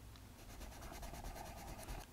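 Derwent Drawing colored pencil in Warm Earth swatched across paper, a steady close scratchy rubbing stroke that continues without pause.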